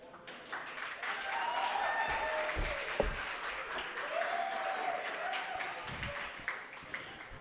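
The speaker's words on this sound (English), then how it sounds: "Let's have you all clapping, please." A university student audience at a Leeds union question-time event claps on request, a sustained spread of many hands slapping at moderate volume with a few sharper individual claps and a faint voice or murmur mixed in.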